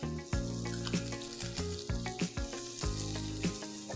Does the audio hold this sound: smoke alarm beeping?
no